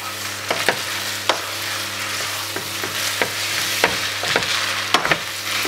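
Pasta being stirred into an olive sauce in a hot pan, a continuous close sizzle punctuated by regular scraping and knocking strokes of the spoon against the pan, with no voices.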